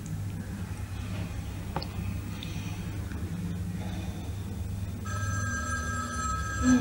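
A telephone rings with steady electronic tones, fairly loud, sounding over a low room hum after a quieter stretch, in a Russian-dubbed episode of the soap opera Santa Barbara.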